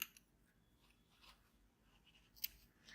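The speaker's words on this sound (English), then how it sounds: "we'll tighten this knot and cut thread" Scissors cut crochet thread in a quiet room, giving a faint, close snip near the start and one sharper snip later.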